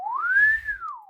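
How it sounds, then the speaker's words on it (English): A swanee whistle sound effect glides smoothly upward in pitch and then slides back down in one continuous arc, clear and fairly loud, with a faint low rumble underneath. "Swanee whistle."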